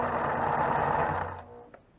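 A sewing machine runs steadily while stitching vinyl with a turtle foot, a dense close whirring that slows and stops after about a second and a half, followed by a single small click.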